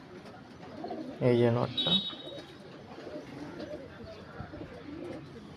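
Panjabi tatira pigeons coo in a short burst of low, throaty notes close by, followed by a second softer call, with a person speaking briefly over a quiet background.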